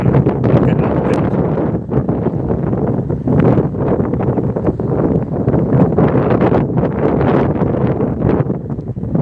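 Wind buffeting a microphone outdoors in Belfast, a loud, continuous broadband rumble with gusty swells throughout and no clear speech.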